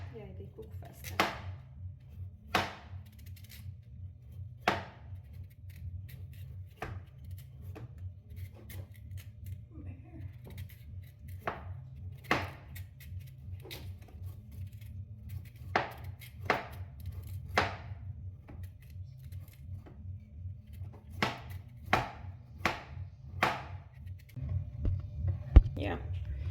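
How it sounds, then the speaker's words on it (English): A knife cuts peeled African sweet potatoes into smaller pieces on a board, giving irregular, crisp chops spread over half a minute with people talking over a low background hum. "We cut them into halves, smaller pieces, so they can cook evenly."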